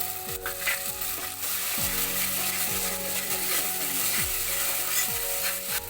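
Tomato paste stirred into onions that have been fried until reddish for baingan bharta, with a dense, continuous sizzle and spatter close up and repeated scraping from a spoon working the pan.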